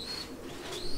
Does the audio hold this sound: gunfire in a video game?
no